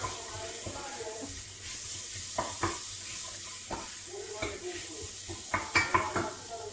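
Food sautés in a pan with a steady sizzling hiss, while a utensil stirs and scrapes in irregular knocks and clinks against the metal, close and moderately loud.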